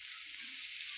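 Food frying in oil in a pan gives a brief, faint, even sizzle, a soft continuous hiss heard alone.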